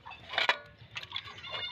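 Ducklings on a Kerala farm giving short high peeping chirps in a few quick bursts, close and fairly clear, with no talking.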